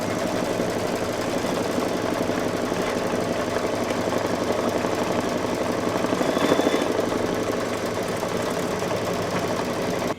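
An embroidery machine stitches out a Santa table runner design, a steady mechanical hum with rapid rhythmic needle pulsing that holds at a constant level for about ten seconds, with no talking.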